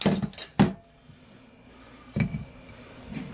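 Pumpkin pieces being fitted into a pot, a few close, hard knocks and clinks against the pot, with quieter shuffling between them.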